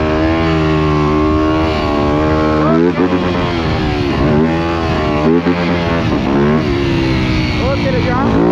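A dirt bike idles warm and loud in a town street, its steady engine hum rising in a few short revs and falling back, with a voice talking over it.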